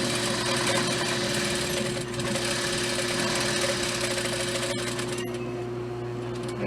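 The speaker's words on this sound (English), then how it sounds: "we're just going to top stitch very closely to the edge, going slow to be nice and straight" A sewing machine runs steadily and slowly, top stitching close to the edge of a knot dress, a continuous mechanical hum with a fast needle rhythm and a brief pause near the end.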